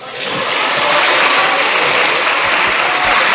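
Lawmakers applaud during a session of South Korea's National Assembly, a loud, dense burst of clapping that builds quickly and stays full and even throughout.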